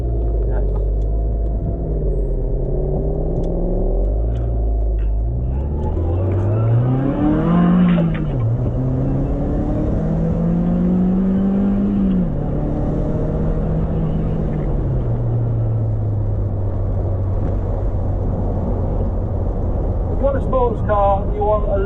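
An MG MGF VVC sports car engine revs repeatedly on a country road, its pitch climbing and falling in long sweeps over a steady rumble, loud and close throughout.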